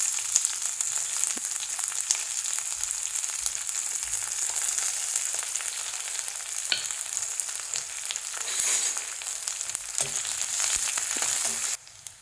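Garlic, curry leaves, onion and green chilli frying in hot oil for a raw banana dal curry, a loud continuous sizzle with occasional stirring scrapes, ending abruptly.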